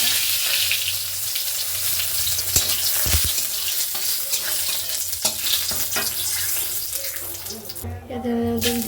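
Spices tempering in hot oil, a steady close sizzle with occasional clinks and stirring scrapes, loud throughout, ending with a brief tonal hum.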